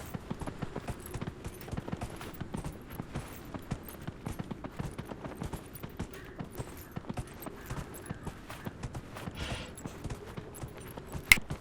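A horse trots in the video game Dragon Age: Inquisition, its hooves clip-clopping in a quick, steady rhythm that continues throughout at moderate loudness.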